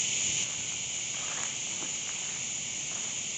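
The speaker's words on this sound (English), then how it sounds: "Cicadas are out like mad crazy." Cicadas call at twilight in an abandoned cemetery, a steady, high, faint drone that holds unbroken throughout.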